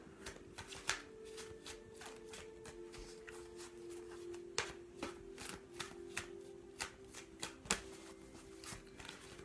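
A deck of tarot cards being shuffled by hand during a card reading, a steady run of soft riffling slaps and clicks with a few sharper card snaps, close and alone.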